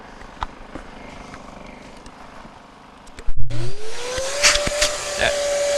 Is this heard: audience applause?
no